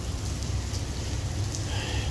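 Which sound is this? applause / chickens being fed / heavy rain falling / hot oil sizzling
heavy rain falling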